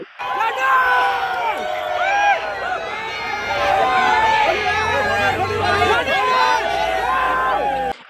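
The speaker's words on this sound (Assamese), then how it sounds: "পোন প্ৰথমবাৰৰ বাবে গুৱাহাটীলৈ অহা IPL দলটোক হৰ্ষ উল্লাসৰ মাজেৰে বিমানবন্দৰত স্বাগতম জনালে অনুৰাগীয়ে" Fans of the Chennai Super Kings IPL cricket team cheer loudly at Guwahati airport to welcome the team. A dense crowd roars and whoops continuously with overlapping shouts and babble throughout.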